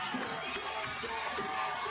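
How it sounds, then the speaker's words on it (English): A dense indoor crowd at a CrossFit competition roars and cheers steadily, with shouts and whoops rising out of the constant wash of noise as athletes push through their rounds. "The crowd urging both of these athletes on through the final portion of their first rounds"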